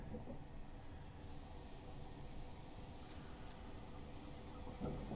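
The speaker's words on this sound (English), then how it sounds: "I've got the train approaching us." A train approaches on the Ostrava to Bohumin route in Train Simulator. It is a faint, steady low rumble that holds throughout with no talking.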